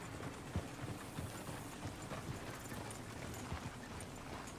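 Horse hooves clip-clop at a steady walking rhythm in the Western video game Red Dead Redemption 2, set in the town of Valentine, moderately close and fairly quiet against a low ambient background.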